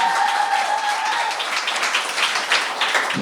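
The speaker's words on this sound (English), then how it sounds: "Everyone, please clap it up for Stefany Shaheen" An audience applauds for New Hampshire Democrat Stefany Shaheen at a coffee shop gathering, a brisk, moderately loud patter of clapping from a small room, with a faint tone fading early on.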